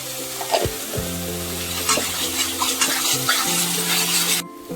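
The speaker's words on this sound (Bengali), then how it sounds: "ভালো করে কষিয়ে নেব এখন সবগুলি মশলা একসাথে" Spices for a pabda fish curry with mustard and poppy seed are sautéed together in a pan, with a steady sizzle and repeated scraping strokes of a stirring spoon throughout, alongside sustained tonal background sounds.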